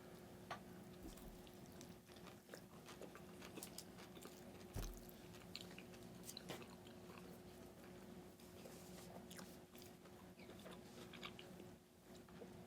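Korean fried chicken bitten into and chewed up close, with soft crunching and wet mastication that carry on steadily over a quiet room hum, plus an occasional sharper crunch; no one speaks.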